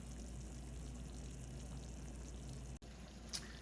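Palm butter boiling in a pot, giving a steady, dense bubbling hiss that runs unbroken until a brief dropout near the end; no one talks.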